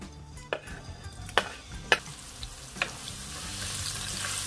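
Chopped onions, pimentos and grated garlic dropped into hot oil in a pot for a Trinidad-style curried conch, giving a steady sizzle and hiss with a few sharp clinks of a stirring utensil against the pot.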